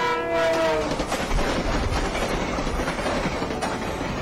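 A train in the game Friday Night Funkin' rumbles past on tracks, opening with a brief horn blast, then a loud steady roar and rattle of rolling cars, with no voices.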